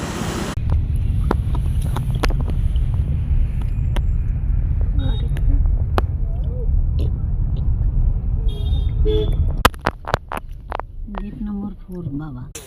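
Steady low engine and road rumble from inside a moving car on a Delhi street, with a brief faint horn toot and louder clicks and knocks near the end.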